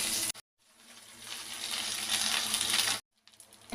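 Dry red chillies fry in hot oil in a pan for curry leaf chutney, a close, rising sizzle cut off by brief silent gaps at either end.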